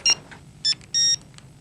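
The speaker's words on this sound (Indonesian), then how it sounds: "SMS-nya masuk nih." A short electronic SMS notification tone on a mobile phone: three bright beeps, the last one held longer, sounding close and clear in a quiet indoor room.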